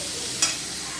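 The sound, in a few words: tempering spices sizzling in oil for dal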